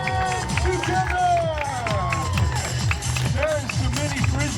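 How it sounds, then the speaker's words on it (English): A crowd at a dog show at the Delaware State Fair claps and cheers steadily throughout, with an announcer's voice talking over the applause. "Okay, Delaware, if you want to see the dogs, we want to hear some applause. Come on, put your hands together."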